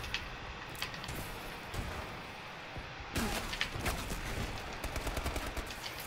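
Shotgun fire in a video game, faint distant bangs and crackling blasts over a noisy, busy background, getting somewhat denser and louder halfway through, with no clear speech.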